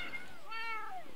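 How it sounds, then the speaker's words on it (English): Kittens at a feed station in a block-building video game give a single faint, rising-and-falling meow, brief and distant against a steady background hiss. "There you go, there's a few kittens."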